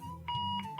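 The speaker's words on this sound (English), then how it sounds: "unique 113 decibel extra loud alarm with adjustable tone and volume control" A Sonic Bomb extra-loud alarm clock, rated at 113 decibels with adjustable tone and volume, sounds a steady electronic beeping tone with short repeated pulses, fairly faint and alone.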